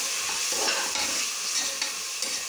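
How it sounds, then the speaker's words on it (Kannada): Sliced onions sizzle steadily in hot oil while being stirred in a pan, a continuous close crackle with soft scraping pulses throughout. "ನೋಡಿ, ಈರುಳ್ಳಿ ಚೆನ್ನಾಗಿ ಫ್ರೈ ಆಗ್ತಿದೆ"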